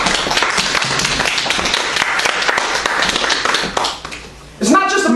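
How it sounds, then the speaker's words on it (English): A church congregation claps hands steadily at a Sunday service, mixed with voices and crowd noise before a brief lull and a sharp return. "Come on, give a little hand clap."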